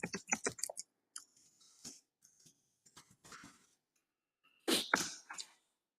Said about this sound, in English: So I'm going to go ahead and type in my topic.